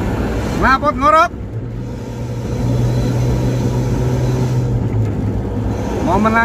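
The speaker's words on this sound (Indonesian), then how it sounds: "Kita dekati suaranya." A bus with a loud snoring-style knalpot ngorok exhaust, carrying a tour group on the Cipali toll road, gives off a steady, heavy droning rumble that holds for several seconds, with brief talk at the start and end.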